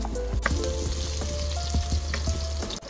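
Garlic fries in rendered pork fat left from frying pork, a steady close crackling sizzle with scattered pops and light stirring scrapes throughout.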